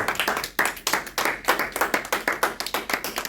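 A church congregation claps steadily in a dense, rhythmic burst of hand claps, loud and close, with no voices standing out.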